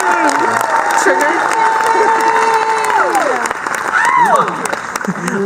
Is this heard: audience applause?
yes